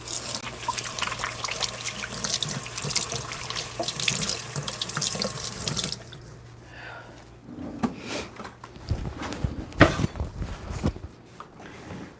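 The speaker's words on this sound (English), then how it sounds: "now I'm going to wash my hands" Water runs steadily from a kitchen sink tap as hands are washed, a continuous near rush that cuts off midway, followed by a few clattering handling sounds and splashes.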